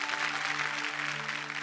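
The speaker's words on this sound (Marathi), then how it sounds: "त्यासाठी एकदा जोरदार टाळ्या तुमच्यासाठी होऊन जाऊ देत." Audience applause at a Marathi women's gathering show, a steady wash of clapping lasting under two seconds with a faint tonal hum beneath and no voices.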